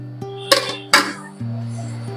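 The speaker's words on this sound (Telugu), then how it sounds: "ఒక్కసారి మళ్ళీ మూత పెట్టుకుందాం." A lid set on a cooking pot gives two sharp metallic clinks in quick succession over a steady low hum, close and brief.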